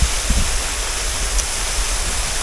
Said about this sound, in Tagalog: Yung falls na yan oh